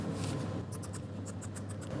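Scissors cutting a strip of fiberglass cloth, a run of quick crisp snips close by after a short pause, with no talking.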